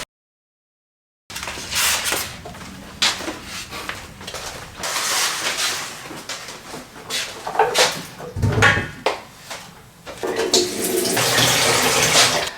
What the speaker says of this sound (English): I've brought my cheese plant to give her a good water.